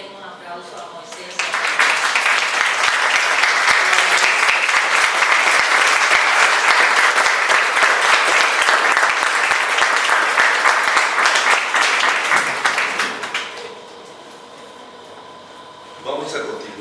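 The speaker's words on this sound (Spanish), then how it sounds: "Entonces yo quisiera que le den un aplauso a Moisés" A crowd at a poetry book launch breaks into loud, sustained applause that swells quickly, holds strong for about twelve seconds, then fades to a quiet room murmur before a faint voice returns.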